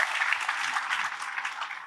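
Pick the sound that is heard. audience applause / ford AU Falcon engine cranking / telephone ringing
audience applause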